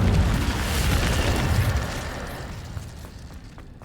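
An Incendio fire spell cast in Hogwarts Legacy bursts out as a loud whooshing boom, then roars and fades over a few seconds, with no talking.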